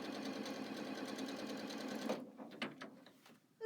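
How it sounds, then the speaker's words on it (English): A sewing machine hums and rattles steadily up close while stitching quilting fabric, then slows and stops in short bursts, with light handling sounds at the end. "Just love the hum of a sewing machine."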